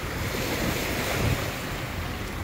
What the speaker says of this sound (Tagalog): dahil may kalakasan din po yung alon ngayon